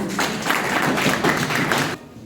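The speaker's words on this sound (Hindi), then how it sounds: "जोरदार तालियों।" An audience at a college inaugural ceremony for a value-added economics course bursts into brief, brisk applause, a close, dense clatter of hands lasting about two seconds before cutting off.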